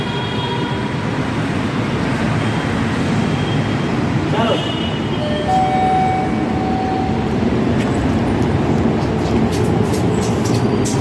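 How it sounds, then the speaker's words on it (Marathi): A metro train rumbles past loudly and continuously, a steady rail roar with a brief squeal and tonal hum partway through. "येऊन गेली मेट्रो"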